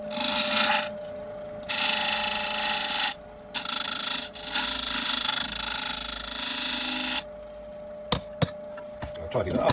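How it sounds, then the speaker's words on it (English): A tool rounds over the edge of a small round oak tray in bursts of harsh abrasive rasping against a steady motor hum, close up, ending in a few sharp taps with no talk. "I'm just going to round over this edge here"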